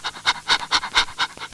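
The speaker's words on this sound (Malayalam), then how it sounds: "പട്ടി തനിയെ വരുന്നുണ്ടല്ലോ." A dog pants close by in quick, rhythmic breaths, about seven huffs in a row, alone and clear.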